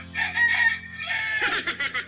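A rooster crows in a long, loud call, followed by a quick run of short, rhythmic clucks from chickens, close by and with no talk over them.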